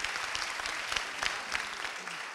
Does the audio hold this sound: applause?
yes